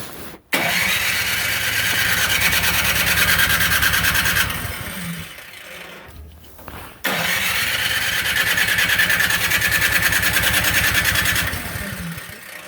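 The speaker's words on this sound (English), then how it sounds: "Nothing left to do but hit the starter button." Troy-Bilt snowblower engine with the choke on, started by its electric starter button: a loud, close whirring crank run that drops out briefly, then a second sustained whirring burst that ends with the engine running, with no talking.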